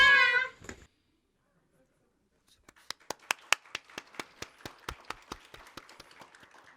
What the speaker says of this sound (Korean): 가정에서도 다 박수 치고 계시죠?